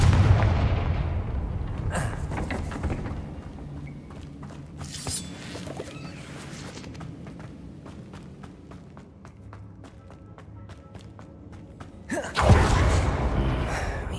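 Confringo fire spell from Hogwarts Legacy erupts in a burst of blasts and rumbling booms, followed by softer crackling and footsteps, then another loud explosive surge near the end.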